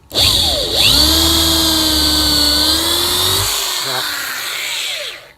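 A power drill whines loudly and steadily while boring a hole for a diddly bow cigar box guitar, its pitch dipping and rising as the bit bites, then slowing toward a stop.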